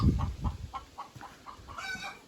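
Laying hen on a farm with pregnant cows giving a series of about eight evenly spaced clucks, moderately close but fairly quiet, ending in a slightly drawn-out call.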